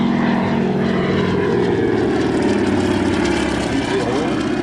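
A Curtiss P-40 followed by a Mitsubishi Zero make a low propeller-driven pass, their engines roaring loud and steady with a droning rasp throughout, while someone comments over the noise.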